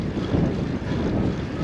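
A steady gust of side wind roars into the microphone as a gravel bike crosses a small bridge, a continuous low buffeting rush with no break.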